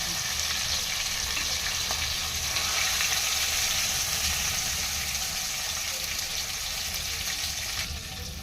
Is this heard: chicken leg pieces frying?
yes